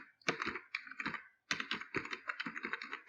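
Fingers type VBA code on a computer keyboard in quick, close, crisp bursts of key clicks, broken by a short pause midway.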